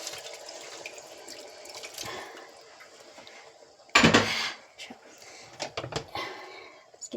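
Water poured into a simmering Fiji-style fish curry with coconut cream, a steady soft trickle that gives way to a louder splash midway, then brief clinks and stirring sounds at a quiet level.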